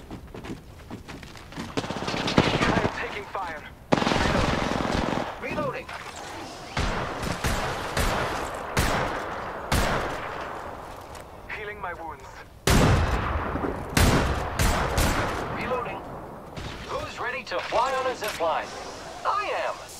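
Gunfire in the video game Apex Legends, sharp loud shots and short bursts landing in irregular clusters, some close and punchy, with people talking and calling out between and over the shooting.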